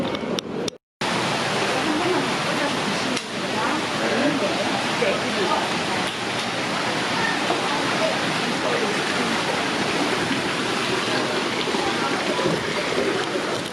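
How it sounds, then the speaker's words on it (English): Water fountain splashing in an outdoor art park in Anyang, South Korea: a steady, loud, broadband rush of falling water running continuously throughout, with a brief dropout near the start. "there's a water fountain back there"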